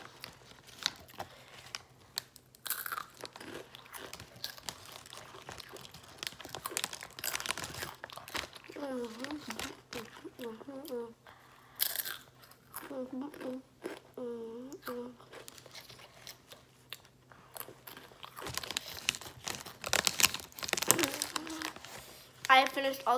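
A bag of Takis Dinamita chips crinkles and rustles close by, with crunchy chewing mixed in, while someone talks on and off throughout.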